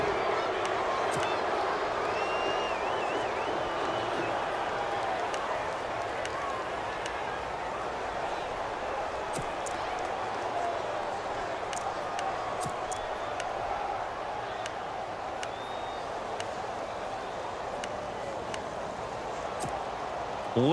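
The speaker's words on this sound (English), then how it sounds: "Listen to this crowd now." Stadium crowd roar in the Madden NFL 18 football game during a late two-point conversion attempt, a steady, moderately loud wash of crowd noise under a commentator's talk.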